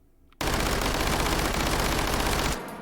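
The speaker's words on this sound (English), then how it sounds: "we are shooting it into the ceiling" Uzi Micro firing full auto into a ceiling in the H3VR game, one loud, dense burst lasting about two seconds after a quiet start, then a brief fading tail.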